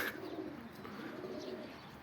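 Pigeons coo softly in a loft, faint and low, with a few brief chirps over a steady background hum and no talking.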